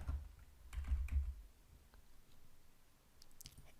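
Keystrokes tap on a computer keyboard while a web address is entered, with a short burst of quick clicks followed by sparser, quieter presses.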